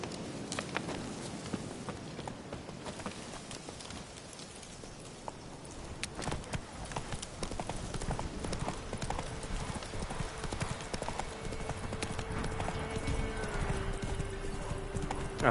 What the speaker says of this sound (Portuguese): Tá meio longe, cadê o meu cavalinho?